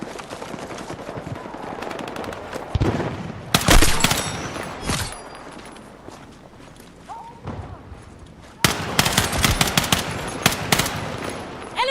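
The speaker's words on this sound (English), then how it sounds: "Enemy machine gun!" Enemy machine gun fire in the video game Battlefield 6, loud bursts of rapid shots with heavy booms, coming in clusters over a noisy battlefield mix with game voice lines.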